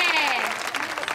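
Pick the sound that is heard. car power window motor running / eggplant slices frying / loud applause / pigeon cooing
loud applause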